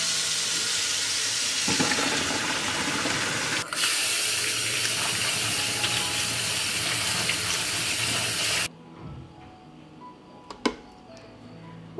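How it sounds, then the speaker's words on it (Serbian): Tap water runs loudly and steadily over boiled beans being rinsed in a kitchen sink, a broad rushing flow that stops abruptly near the end, leaving faint clinks and quiet room tone. "Pasulj je kuvao 5 minuta i nosim ga sad na ispiranje."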